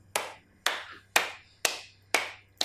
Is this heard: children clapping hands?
yes